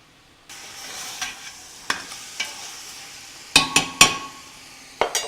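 Pork browns in a pot, giving a steady sizzle with a few louder scrapes and knocks of a utensil stirring it, close and with no voices.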